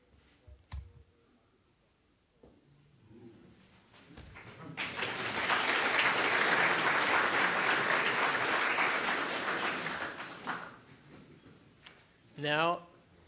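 An audience at a Python conference talk breaks into applause that swells to a dense, sustained clatter, holds for several seconds and fades, framed by faint clicks and a brief voice at the end.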